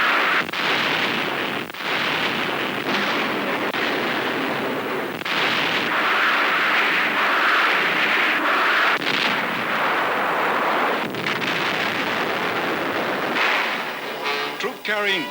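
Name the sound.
rocket fire barrage on shore cave defenses, WWII archive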